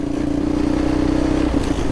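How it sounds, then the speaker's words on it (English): A Suzuki LT230E quad with a basic single-cylinder, two-valve four-stroke engine holds a steady mid-RPM drone, loud and close, with an even throbbing pulse and no speech. "I'm in the mid RPMs right now"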